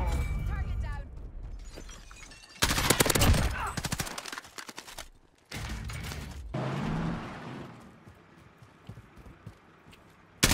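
Bursts of gunfire from a Call of Duty Warzone match, loud rapid volleys with sniping, arriving in several separate blasts between quieter stretches, with voice chat talking underneath.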